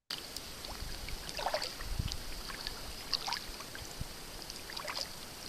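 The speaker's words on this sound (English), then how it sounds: "All I can hear is nature and my paddle in the water." Steady kayak paddle strokes dip and pull through calm water, with soft splashes and trickling drips against a quiet outdoor background. No voices.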